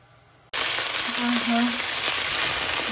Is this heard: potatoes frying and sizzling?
yes